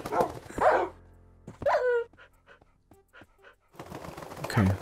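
Dog barks in Minecraft, several short sharp yaps near the middle, between louder bursts of game noise at the start and end.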